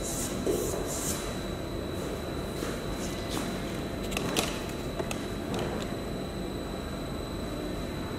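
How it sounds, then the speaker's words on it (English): Sanding block rubbing back and forth across a painted car body panel, a continuous close gritty scraping with faint rhythmic strokes and occasional light knocks. "when you sand the panel, it will expose a low spot"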